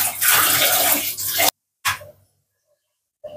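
Loud running tap water splashes over hands being washed in a kitchen sink during cooking, then cuts off abruptly, followed by a short splash and a brief trickle.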